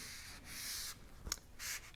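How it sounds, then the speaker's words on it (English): Rag wiping grease off the brake caliper bolts of a 2019 Yamaha Bolt motorcycle: close, steady rubbing strokes in bursts, with one brief sharper scrape in the middle. "I'm going to clean the grease off this"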